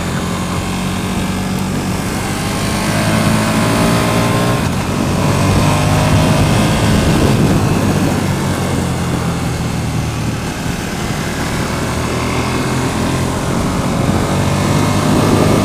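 A 2014 KTM 1290 Super Duke motorcycle roars steadily while being ridden, with loud engine drone and wind rush throughout and slight rises and falls in pitch.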